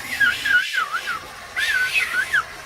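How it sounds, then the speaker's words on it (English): A person whistles a wavering, looping melody in two short phrases separated by a brief pause, clear and fairly close over a low background hum. "I whistled over the loop"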